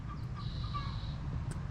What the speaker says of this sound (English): I can hear a hen over there clucking.